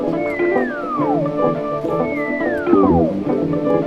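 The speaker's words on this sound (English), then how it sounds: "Then I have this synth, which is that." Synthesizer plays a bright sustained patch with two repeated descending gliding swoops over layered tones, loud and close, no voices.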